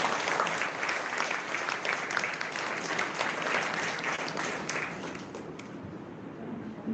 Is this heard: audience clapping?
yes